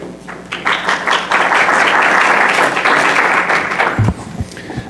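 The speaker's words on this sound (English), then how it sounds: "a round of applause for our first speaker" Sustained, loud applause from a conference session audience greeting the first speaker, a dense wash of clapping that fills about four seconds before tapering off.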